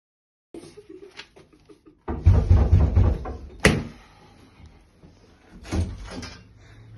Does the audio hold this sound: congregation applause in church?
no